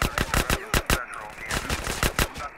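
Micro SMG fire in GTA San Andreas, repeated short loud bursts in an uneven rhythm through the whole stretch, close and dominant.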